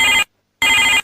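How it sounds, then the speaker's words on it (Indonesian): A mobile phone rings with an incoming call, giving two loud electronic ringtone bursts separated by a brief silent gap, alone with no talk. "Aduh, ini siapa lagi yang telepon?"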